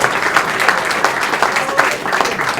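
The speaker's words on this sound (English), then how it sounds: "One more round of applause for Attorney General Clark and Director Chris Curtis." At an annual meeting, a room of attendees claps loudly and steadily with distinct individual hand slaps standing out, unbroken from start to end.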